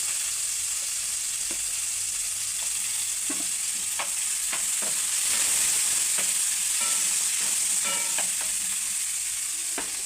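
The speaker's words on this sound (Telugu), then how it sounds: "ఉల్లిగడ్డలు వేగుతున్నాయి." Chopped onions and green chillies frying in oil in a kadai, giving a constant loud hissing sizzle with faint intermittent clinks from stirring throughout.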